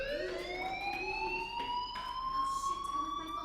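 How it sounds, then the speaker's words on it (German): A fire alarm in the video game Life is Strange wails steadily with a rising electronic tone and bright harmonics, sounding continuously and fairly loud with no talking over it. "do you hear that fire alarm?"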